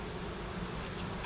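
Honey bees from an opened hive buzz in a dense, steady drone, close and fairly quiet, with no voices.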